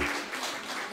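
A short burst of crowd applause at a church service, steady dense clapping from many hands filling the whole moment.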